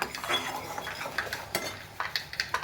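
A spoon stirs a jaggery and peanut mixture in a pan, giving rhythmic metallic scrapes and clinks against the pan in quick succession over a faint bubbling, with no talk.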